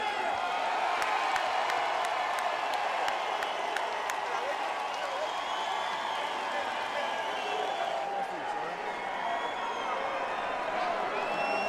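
A boxing arena crowd keeps up a steady, middling roar of mixed cheers and murmurs, never swelling into a big eruption, with scattered claps and chatter running throughout.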